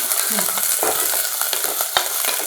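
Chopped onion fries in a hot pan with a dense, continuous sizzle, and repeated scraping strokes from stirring are heard close up throughout.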